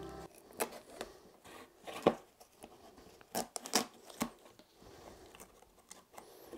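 Adhesive tape being torn and pressed on to seal cracked areas of a wood chip vacuum, giving scattered short ripping and crinkling bursts close by, fairly quiet, with no talk.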